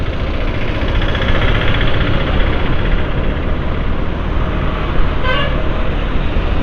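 Dense road traffic heard from a motorbike on a busy route near highway construction, a loud continuous engine and road roar with a short horn toot near the end.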